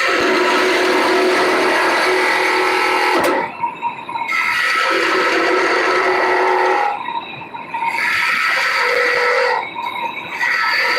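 A woodturning lathe spins a pinecone dragon egg while a gouge cuts it, giving a loud, tonal grinding whir that drops out briefly about three times as the tool lifts off the piece.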